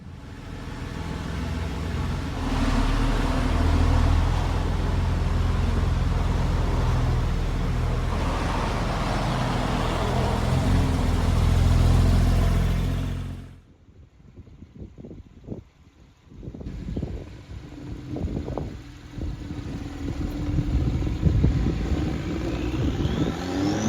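A 2019 Porsche 911 Carrera 4S engine pulls hard with a loud, rising roar that cuts off abruptly, then settles into quieter cabin driving noise with uneven engine surges.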